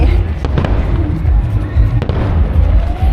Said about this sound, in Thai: อุ๊ยแล้วก็มีพลุด้วย